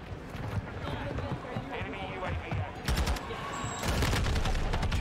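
Rapid video-game gunfire from Ready or Not or Call of Duty 2 rattles in dense bursts, loudest near the end, layered with footsteps and other game effects under continuous play.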